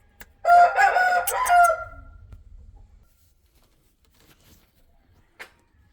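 A rooster for sale crows once, loud and close, in a long wavering call that fades out, followed by near silence with one brief faint click.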